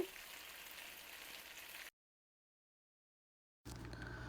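Steady crackling sizzle of taro corms frying in hot oil, broken by a stretch of complete silence before the sizzling resumes.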